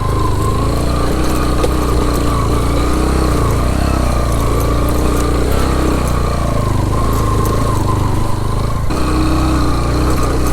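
A motorbike engine runs steadily on a steep mountain jeep track to Baboon Top in Neelum Valley, its close, continuous drone holding an even, loud level for the whole stretch without a break.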